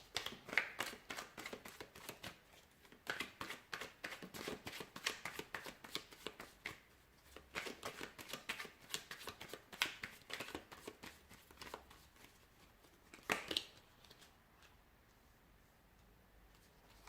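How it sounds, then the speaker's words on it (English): Tarot cards are shuffled close up in repeated quick riffling bursts, soft flicks and pauses between, fairly quiet overall. "So we'll give the cards a shuffle"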